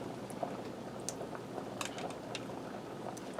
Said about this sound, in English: I have a pound of spaghetti over here boiling in salt water